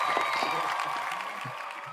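Applause from an interview audience, a dense even patter of many hands that fades slightly over two seconds, with a voice speaking over it.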